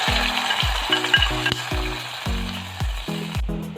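Coconut fried in two tablespoons of ghee is stirred into a hot potato coconut masala curry, giving a steady close sizzle with scraping stirs under rhythmic low background music.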